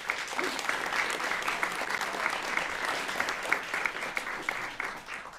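Applause from the audience for colleagues at a school board workshop, a continuous wash of clapping from a modest crowd, steady and moderately loud, with faint voices beneath.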